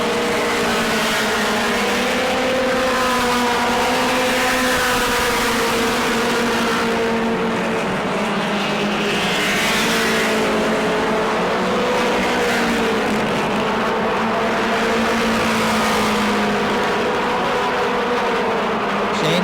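Modified race cars at New Smyrna roar as a dense pack, loud and continuous, with engine pitch rising and falling as cars sweep past over nearly twenty seconds.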